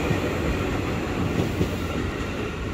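A KRL Commuter Line electric train rumbles through Manggarai station, a loud, steady low roar with faint wheel clatter and no break in level.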